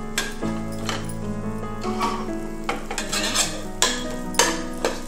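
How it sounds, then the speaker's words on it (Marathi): Spice powders including cumin being stirred in a cooking pan, a spoon scraping and clinking against the metal over a continuous low sizzle, with louder scrapes every second or so. "हे मिक्स करूया त्याच्यामध्ये आणि एकदा ढवळून घेऊया"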